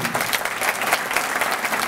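Audience applause at a community awards event in Sarasota County, steady dense clapping from a crowd sustained without pause.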